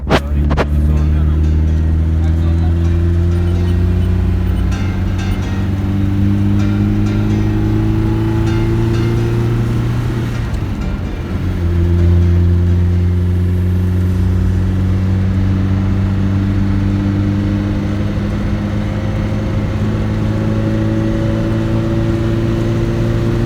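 A Tofaş Şahin car engine accelerating while driving, its steady droning tone climbing in pitch through the gears, dipping briefly midway at a shift and then rising again, loud and close inside the cabin.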